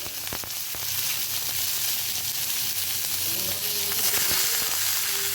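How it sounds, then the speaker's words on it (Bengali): Drained soaked gobindobhog rice goes into hot oil in a kadai, setting off a loud, dense, continuous sizzle with a few crackling pops and light stirring taps. "তেল গরম হয়ে গিয়েছে, এখন আমি ভিজিয়ে রাখা চালগুলোকে ঝরিয়ে এর মধ্যে দিয়ে দিচ্ছি"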